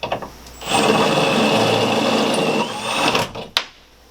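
Power drill running steadily for about three seconds to pop a rib nut out of a Sprinter 170 van's interior A-frame, a loud continuous whirring grind that ends with a couple of sharp metallic clacks.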